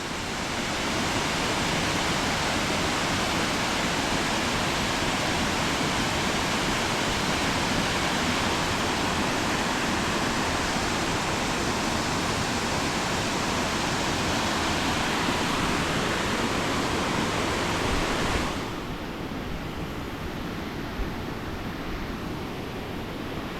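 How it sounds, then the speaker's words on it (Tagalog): A forest waterfall pours in a steady, dense broadband rush that holds constant and loud, then drops slightly in brightness near the end as if the listener moves away, with no voices over it. "Ito pala oh, waterfall dyan."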